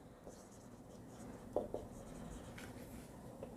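An accounts adjustment table being written out by hand, soft close pen strokes scratching on paper with a few brief taps, faint under quiet room tone.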